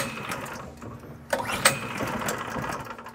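A Chinese mud motor engine on a duck boat is pull-started, giving a brief sputtering rattle that does not quite catch, with a short sharp burst partway through.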